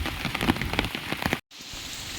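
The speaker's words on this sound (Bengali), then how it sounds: "দেখো, সকাল থেকে বৃষ্টি হয়ে যাচ্ছে।" Steady rain falling on a rainy day, a dense close hiss of drops with scattered louder patters on a surface, briefly cutting out before resuming evenly.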